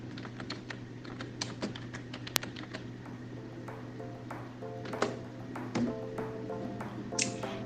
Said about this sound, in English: and type in soap calc.